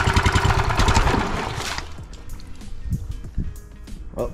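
A cheap outboard motor runs loudly with a rough, pulsing drone, then cuts down abruptly after about two seconds to a quieter idle with scattered knocks and clunks as it is shifted into gear.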